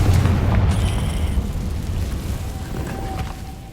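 A Confringo fire spell explodes in the video game Hogwarts Legacy: a loud booming blast with a dense low rumble that fades slowly over several seconds, with no talk over it.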